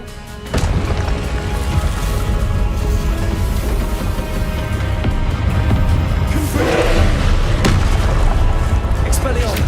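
A spell cast in Hogwarts Legacy, a loud booming magical blast that rumbles on with steady crackling roar and a couple of sharper bursts, playing throughout without a pause.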